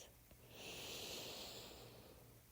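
One slow, deep breath during yoga practice, a soft airy inhale that swells and then fades, close and quiet with no speech.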